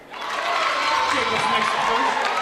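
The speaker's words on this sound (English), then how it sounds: "The home crowd is screaming at the peak of his shot." A home crowd at a high school basketball game screams and cheers loudly, a sustained roar that rises quickly and stays strong throughout.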